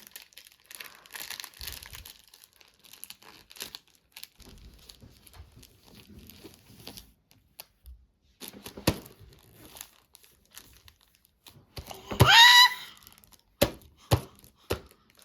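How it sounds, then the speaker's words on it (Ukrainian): A short burst of papery crinkling and tearing as a child pulls paper masking tape loose from a high-chair tray, preceded by faint quiet rustles and followed by a few soft taps. "Наклеюємо отак на годувальний столик і дитинка має відклеїти."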